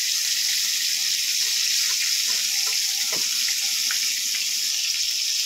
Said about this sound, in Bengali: উপর থেকে এইভাবে গরম তেল দিয়ে এটাকে উপরটাতেও ভেজে নেব।